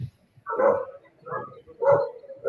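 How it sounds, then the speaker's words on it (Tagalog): Several dogs bark in a few loud bursts close by, with brief gaps between them and no clear speech over them. "Sorry, may mga aso nagwawala."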